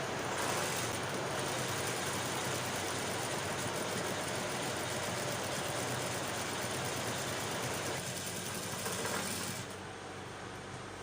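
A sewing machine runs steadily while stitching along the edge of shirt dress fabric, a continuous close mechanical whir for about ten seconds, easing off near the end.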